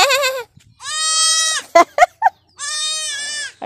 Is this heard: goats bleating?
yes